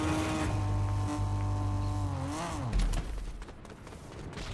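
A car driving in Fortnite, its engine a steady tonal drone that rises and bends in pitch as it accelerates, then gives way to rougher road noise and rattling near the end.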